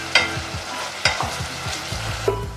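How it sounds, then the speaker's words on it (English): Onions fry and get stirred in a pan for bolognese sauce, a loud sizzle broken by repeated spoon scrapes and knocks against the pan, with no talking. "we've browned the onions for about 5 minutes"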